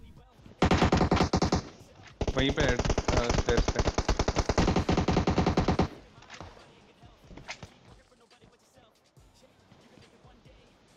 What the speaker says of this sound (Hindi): पीछे से भी कोई गोली चला रहा था